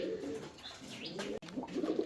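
German Shield grey bar pigeons at a fancy pigeon farm, soft throaty cooing repeated in low rolling phrases, close and fairly quiet.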